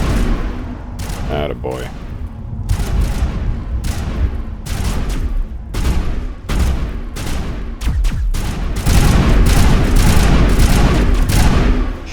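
Rapid assault rifle bursts from the Mass Effect: Legendary Edition game, repeated volleys of loud, sharp shots across the whole stretch with booming impacts, while someone talks over the gunfire.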